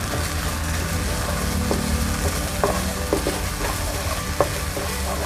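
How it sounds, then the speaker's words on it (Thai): Green curry paste and a few kaffir lime leaves stir-fry in a pan for Thai green curry with winter melon and chicken. The sizzle is dense and steady, with occasional spatula scrapes and taps, close up and with no voices. "ผัดให้เขาส่งกลิ่นหอมนะคะ"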